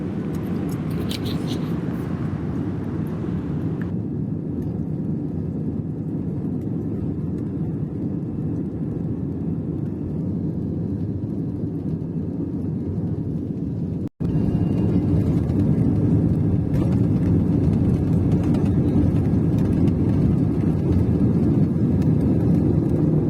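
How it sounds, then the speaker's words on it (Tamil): An Air India airliner rolls onto the runway at Chennai and takes off on a rainy morning, its engine roar steady and loud from inside the cabin, swelling further partway through the climb. "இப்போ நம்ம ரன்வே உள்ள என்ட்ரு ஆகிட்டோம்னா பார்த்தீங்கன்னா டேக் ஆஃப் ஆக போகுது"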